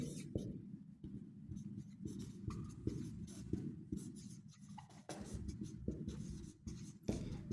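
Chalk or marker scratching across a board during a physics lecture on kinematics, in short repeated strokes and taps, close and fairly quiet, with faint speech in the room at times.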